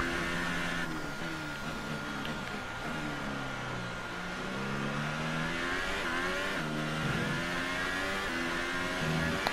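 A Formula 1 car engine in F1 2018, on the Bahrain circuit, revs steadily with rising and falling whining pitch through a corner, sustained and prominent, with no talking.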